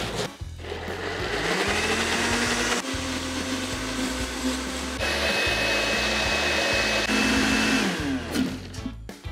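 A blender whirs loud and steady, blitzing pine nuts, Parmesan and basil into pesto. The motor pitch shifts a few times as the blend goes on, and no one speaks over it.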